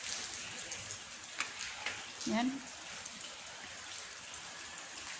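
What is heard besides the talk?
rain falling outside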